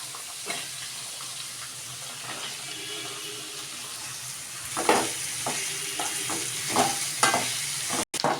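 Bottle gourd and onions sizzle in a hot pan with a steady hiss, joined by scraping stirs and clinks of a spoon partway through.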